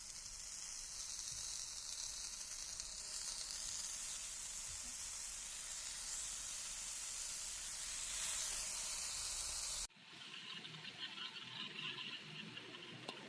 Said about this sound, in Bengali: দিয়ে দেওয়া শেষ ব্যানানাগুলো।